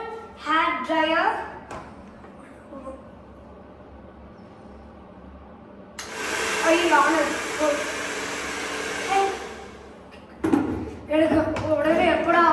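A hair dryer runs in a room at the Gateway Coonoor resort, giving a steady, loud, roaring whoosh for about four seconds. Talking comes before and after it.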